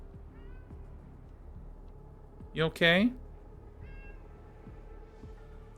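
A pet cat gives a short double meow up close, with faint low purring underneath, while a person talks softly.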